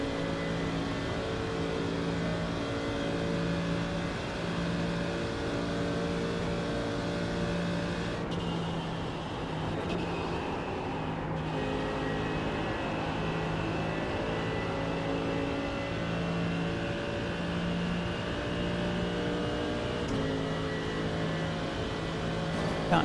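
Racing engines of a Porsche and an Audi in a multi-class race in the iRacing sim drone at high revs, a continuous, fairly quiet whine with shifting pitch and brief gear changes, running steadily for the whole stretch.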